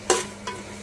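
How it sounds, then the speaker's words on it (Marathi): Onions being sautéed and stirred in a pan while a chicken biryani is cooked: two short scraping stir strokes with a light sizzle, close and fairly quiet, with no voices. "छान असा कांदा आपण परतून घेऊया"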